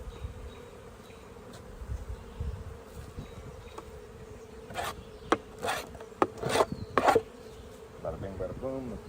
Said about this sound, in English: So I want to scrape this stuff off.